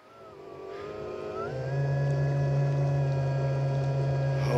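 A jet boat engine towing a tube on the water, a loud steady drone that rises in pitch and intensity over the first two seconds, then holds as a strong sustained whine near the listener.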